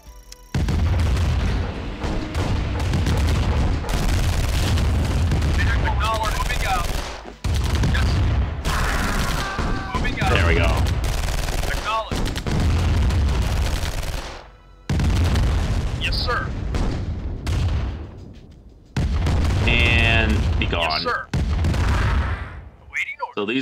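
Heavy booms of artillery and tank cannon fire in the real-time strategy game Command & Conquer: Tiberium Dawn, a GDI mission, repeating in dense bursts over a constant low rumble of battle, with a speaking voice at times.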